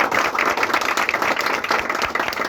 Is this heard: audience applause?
yes